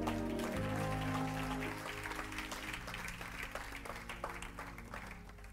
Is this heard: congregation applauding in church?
yes